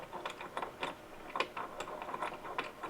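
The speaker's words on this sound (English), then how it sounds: "Tighten up the C-clamp thing." Rapid, uneven ticking and ratcheting clicks as the C-clamp of an Innogear MU028 mic arm is screwed tight onto a desktop, close and steady throughout with no voices.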